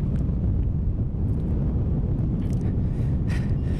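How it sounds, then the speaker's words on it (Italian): Strong wind buffeting and roaring while paragliding, low and constant, rushing past with no voices. "Si sente solo il rumore del vento"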